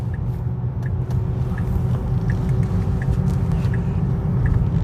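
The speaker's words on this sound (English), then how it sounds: "These tires are loud." Steady loud whirring road and tire noise from a car driving on a highway, a continuous low rumble with a faint repeating high tick throughout and no talk.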